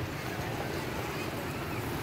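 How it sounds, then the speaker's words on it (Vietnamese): Strong wind blows across a park, a steady, rushing roar that buffets the microphone and fills the short stretch without pause. "Gió quá mọi người ơi."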